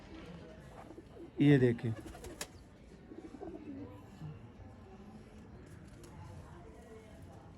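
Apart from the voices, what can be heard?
pigeon cooing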